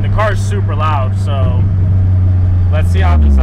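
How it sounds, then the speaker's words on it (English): Honda S2000 sports car engine droning loudly and steadily while driving, a strong low hum running throughout with someone talking over it. "and the car is super loud"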